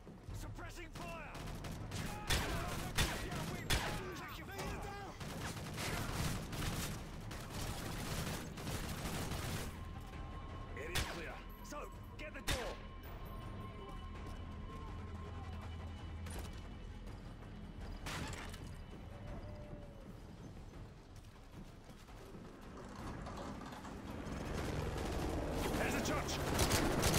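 Suppressing gunfire in a video game set in Sierra Leone: dense, continuous bursts of rapid automatic fire and scattered shots, loud and sustained, with voices over the shooting.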